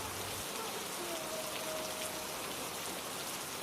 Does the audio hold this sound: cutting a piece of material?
no